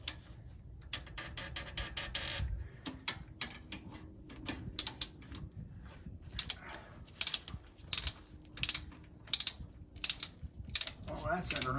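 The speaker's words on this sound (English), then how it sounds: "technically you're not supposed to use a torque wrench as an actual wrench" A torque wrench ratchets on the throttle body bolts of a 2018 Chevrolet Silverado 1500, with rapid clicking bursts repeating close up in between short pauses and a low background hum.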